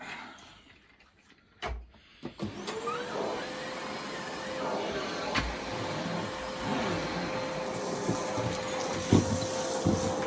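A Dirt Devil handheld vacuum cleaner is switched on during a mess cleanup test after a few clunks and handling knocks, then runs with a steady whining motor hum and a rushing suction sound, loud and close, with occasional bumps.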